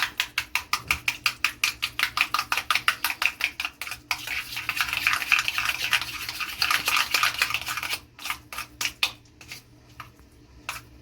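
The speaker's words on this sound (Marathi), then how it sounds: "हे पूर्ण व्यवस्थित फेटून घ्यायचं आहे दही" Yogurt being whisked in a bowl for a tandoori chicken drumstick marinade: rapid, steady clinking and scraping strokes against the bowl, fast and regular at first, then looser and more scattered, close up with no talking.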